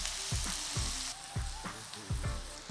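Butter hits hot olive oil in a pan and sizzles, with a few sharp crackling spurts over a constant frying hiss, close up and without talk.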